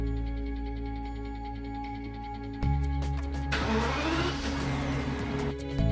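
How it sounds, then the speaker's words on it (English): BMW 7 Series E65 engine idling in a workshop after an air suspension replacement, a steady low hum with constant tonal whine that steps up in level partway through as a broader rushing noise joins in. "Start the vehicle and run the engine for at least 2 minutes."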